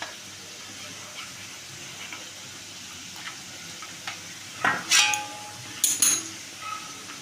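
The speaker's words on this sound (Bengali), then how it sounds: "এইটার মধ্যে একটু উষ্ণ গরম জল দিয়ে এটাকে আমি গুলে নিচ্ছি" A spoon stirs milk powder into warm water in a bowl, giving soft scraping swirls and then a few sharp clinks against the bowl near the end, close and clear, with no talk.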